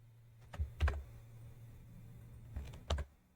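Fingers type an email subject on a computer keyboard, giving two short bursts of soft, close key clicks separated by a quiet pause.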